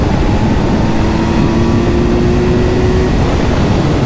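Kawasaki Z900 four-cylinder motorcycle, 2023 model, engine running with a steady, loud broadband roar and a faint rising whine, continuous for about four seconds with no talking.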